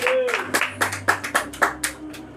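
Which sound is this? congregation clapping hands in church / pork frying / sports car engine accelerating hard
congregation clapping hands in church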